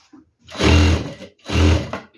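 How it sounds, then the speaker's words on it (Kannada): A home sewing machine stitching a saree fall runs in two loud bursts of rapid whirring, with brief pauses in between. "ಈ ಥರ ಸ್ಟಿಚ್ ಮಾಡ್ತಾ ಬರೋದು ಸುಲಭ"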